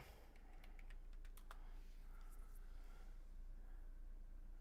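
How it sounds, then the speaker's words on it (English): Fingers tap on a computer keyboard in a burst of quick, light clicks, followed by a few scattered keystrokes over a steady background hum, with no talking. "I'm typing forest waterfall."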